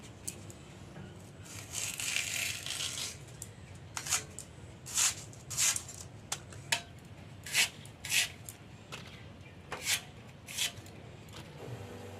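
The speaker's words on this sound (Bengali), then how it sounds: "মা এখন কচু শাকটা কেটে নিচ্ছে।" Taro leaves (kochu shak) are cut by hand for a hilsa fish-head recipe, with repeated crisp rustling slices in irregular bursts, close and moderately loud with no talk.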